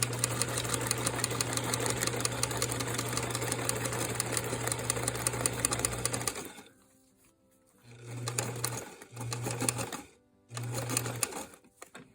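A sewing machine stitches appliqué fabric, running in a long continuous burst up close, then stopping and restarting in three short bursts separated by pauses.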